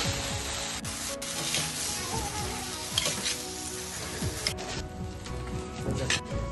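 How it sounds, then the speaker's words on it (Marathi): Boiled noodles fry in a pan while being tossed and mixed, producing a close, busy sizzle with scraping and stirring scrapes running continuously, no talking. "आपण बॉईल केलेले नूडल्स टाकलेले आहेत आणि त्याला आपण आता फ्राय करून घेऊया."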